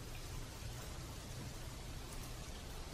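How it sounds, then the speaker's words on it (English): Steady rain falling in a video game, a dense even hiss of drops with low rumbling underneath, continuous and moderately loud throughout with no voices. "I can walk in the rain."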